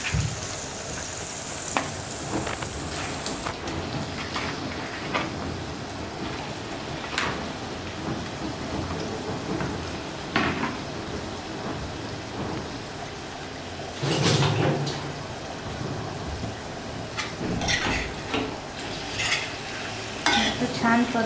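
Chicken sautéing in a pan with fried onion and tomato for a spicy tambda rassa, a continuous sizzle broken by stirring scrapes, utensil knocks and clanks of pots, close and moderately loud.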